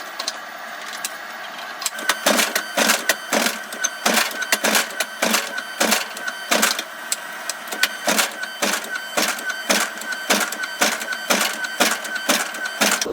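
Power hammer fitted with round dies drawing out steel billets of high carbon and stainless San Mai, pounding in fast, loud, steady repeated blows with brief pauses, close and with no talk.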